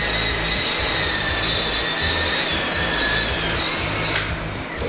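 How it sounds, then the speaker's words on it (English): Close, steady drone of a drill spinning an agitator to mix LizardSkin ceramic insulation in a bucket, holding a constant whirring pitch before easing off at the end, no speech. "I'm going to re-agitate my insulation material"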